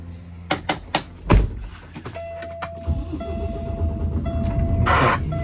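A few clunks and thumps, then a 2014 Kenworth T680 truck's Paccar MX13 diesel engine cranks and catches, settling into a steady low rumble with a faint whine above it.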